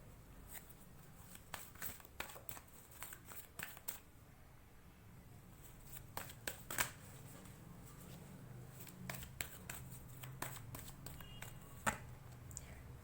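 Tarot cards being shuffled and handled, heard as soft, quiet papery flicks and taps in irregular bursts over a low background hiss, with no speech.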